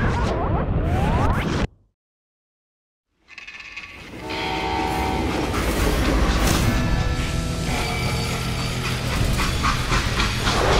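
Freight train rolling in the Western shooter game Call of Juarez: Gunslinger, a loud rumble with a steamy hiss that cuts to silence for a moment, then returns as a steady clattering rush.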